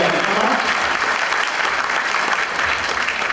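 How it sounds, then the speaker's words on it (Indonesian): An audience at a company fund presentation breaks into loud, dense applause that holds steady throughout, with scattered cheers mixed into the clapping. "saya minta tolong tepuk tangan buat kita lagi semuanya"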